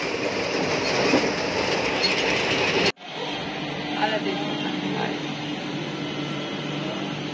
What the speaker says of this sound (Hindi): 3 घंटे स्टेशन पर बैठने के बाद हमारी ट्रेन आ जाती है